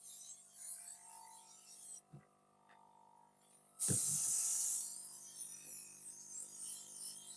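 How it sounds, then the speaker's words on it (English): Aerosol shine spray hissing onto a fondant-covered round cake, in two bursts: a short spray at the start and a longer, louder one from about four seconds to the end, with a few soft handling knocks between them. "And I'm gonna spray both the front and the back."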